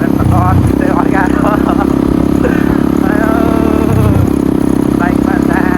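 A motorcycle on the move, its engine holding a steady, loud drone throughout with a brief shift in tone near the end, while a voice talks continuously over it.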